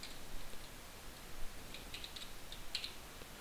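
A handful of faint, scattered keystrokes on a computer keyboard as text is entered during a 3D clock-modeling tutorial, with soft clicks bunching up near the middle against a quiet room hiss.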